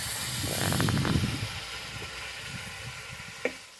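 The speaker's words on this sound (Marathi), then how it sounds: "आता जिरे मोहरी टाकून घेऊ टाकून घेतला आता हलवून घेऊ" Cumin and mustard seeds hitting hot oil in a pan while making Maharashtrian potato bhaji, a burst of crackling sizzle that fades into a quieter steady hiss, with a single sharp clink near the end.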